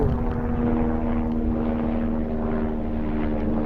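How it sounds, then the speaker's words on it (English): A helicopter flies overhead, its steady engine drone and rotor hum holding a constant pitch at moderate loudness, heard alone for a few seconds. "can you see the helicopter?"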